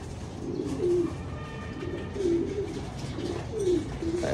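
Hungry breeder pigeons cooing in repeated soft, rolling calls, three or four distinct coos at a steady pace over a low background murmur.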